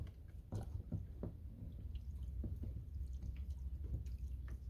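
Water drips and patters softly off a firearm forend during a rinse test, a scattering of faint, irregular droplet taps over low background noise.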